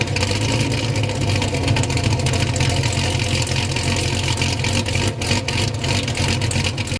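A 2013 Chevrolet Caprice with a 6.0-litre V8 runs steadily, a loud, constant deep engine drone with rough low rumble and no voices, close to the car.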